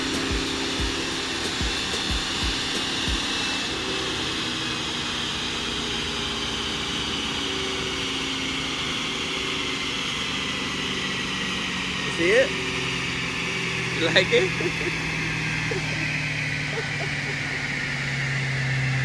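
A twin-turbo Lamborghini engine runs loud and steady as a sustained mechanical drone, with a couple of brief revs, while people talk over it nearby.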